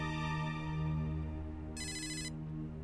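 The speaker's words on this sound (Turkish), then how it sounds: "Ah, beklediğim telefon geldi." A telephone rings indoors with a steady, repeating electronic ringtone, moderately loud and alone, the brighter chime tones dropping in and out partway through.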